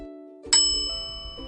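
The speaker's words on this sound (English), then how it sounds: "Did you hear a bell?" A single bright bell ding rings out sharply after a moment of quiet, then fades slowly with a long shimmering tail and a faint second tap near the end.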